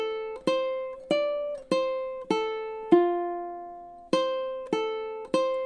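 Measures 9 through 12 of a beginner ukulele jam ring out alone, eight or so bright plucked notes in a steady rhythm, with one longer sustained note held near the middle before the pattern resumes.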